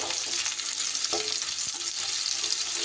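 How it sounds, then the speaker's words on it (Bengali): A medium chopped onion drops into hot oil already fragrant with whole-spice tempering, hissing in a dense, steady sizzle up close with a few soft knocks of stirring. "ফোড়নটা থেকে সুন্দর গন্ধ বেরোলে এবার আমি এখানে দিয়ে দিচ্ছি কেটে রাখা একটা পেঁয়াজ"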